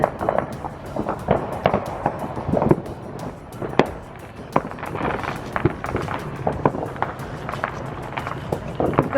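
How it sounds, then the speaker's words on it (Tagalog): Neighborhood fireworks crackle and pop in dense, irregular bursts over the Fourth of July, many sharp reports near and far in continuous succession, with people talking in the background. "Wow, a lot of fireworks."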